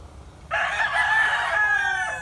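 A rooster crows once, a sustained, loud, close call lasting over a second and a half that rises sharply out of quiet background hum.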